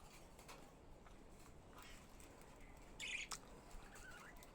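Small budgerigars chirp and tweet faintly from a few pet birds with newly hatched chicks, with brief soft wing flutters and one slightly louder squawky burst near the middle against a steady quiet background.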